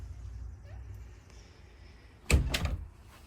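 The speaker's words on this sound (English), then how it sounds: "Here, open the door for you." A front door onto a porch being opened: a quiet stretch, then a sudden close clatter of the latch and door swinging, with a second knock of wood against the frame.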